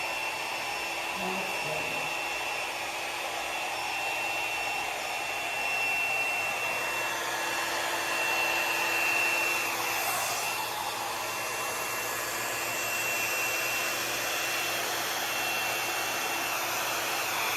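Steady loud blowing hiss of a heat gun or torch played over freshly poured acrylic paint, continuous and close, with a faint sweep as it moves across the surface.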